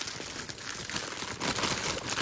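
A plastic bag crinkling during the unbagging of a Temu craft kit: close, continuous rustling and crackling that grows louder in the second half, with no speech.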